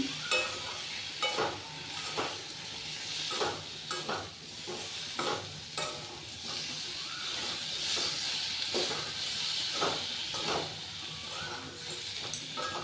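Vegetables and tomato fry in a pan for khichuri, a soft, steady sizzle broken by scraping stirs every second or so, fairly quiet and free of talk.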